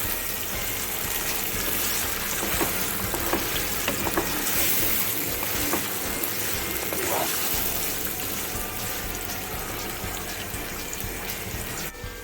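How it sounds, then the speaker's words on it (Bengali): Paneer sizzles as it fries in a pan, a continuous hissing crackle throughout, with occasional clinks and stirring noises rising above the frying. "যতক্ষণ এই পনিরটা ভাজা ভাজা হচ্ছে"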